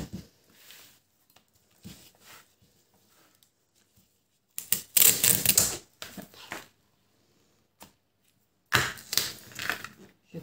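Brown packing tape pulled off the roll in a few loud, ripping bursts and stuck down for a bookbinding album cover, separated by quiet gaps with faint handling and taps.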